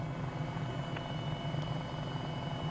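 Helicopter in flight on approach in New Zealand backcountry, a steady close drone of engine and rotor throughout, continuous and even in loudness with no voices.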